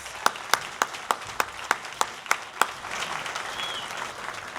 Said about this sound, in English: And a round of applause and thanks to our bagpipers.